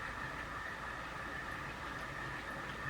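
Continuous steady whirring hum of a small model train running, even and unbroken throughout with no voices.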